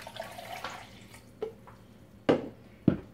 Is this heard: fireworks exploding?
no